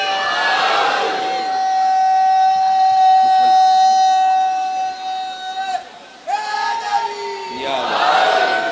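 A crowd at a Muharram religious gathering chants a slogan in unison, loud, drawn-out sustained voices rising together, dipping briefly, then surging back at full strength.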